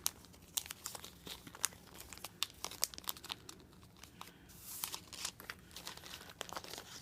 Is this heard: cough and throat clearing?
no